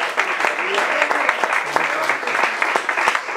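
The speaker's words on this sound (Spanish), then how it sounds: "Dale un aplauso al Señor." A church congregation claps in praise during a sermon, a sustained burst of crisp, rapid applause mixed with scattered voices.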